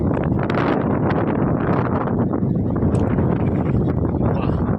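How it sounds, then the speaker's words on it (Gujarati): Strong wind gusts roar steadily through a heavy downpour, a loud, continuous broadband rush that buffets the microphone for the whole stretch with no break. "પવન જોરદાર આવે છે"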